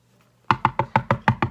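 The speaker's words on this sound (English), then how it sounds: "knock on the door" Seven sharp, evenly spaced knocks rap on a door, close and clear with nothing else heard.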